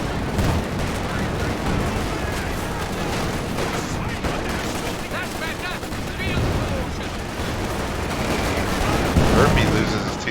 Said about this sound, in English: 6-pounder takes out the Panzer IV on the city side